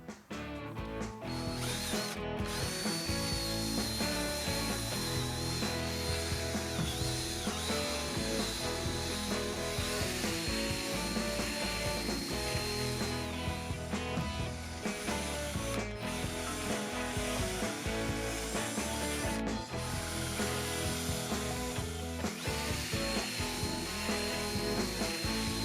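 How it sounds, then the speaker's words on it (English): Drill spinning a fine-grit pad with lens cleaner across a Ford F-150 headlight lens, a steady close whirring and rubbing drone that continues without break, with faint changes in pitch as pressure shifts. "I then mounted the blue fine grit pad in my drill and applied the lens cleaner around the perimeter and center of the pad."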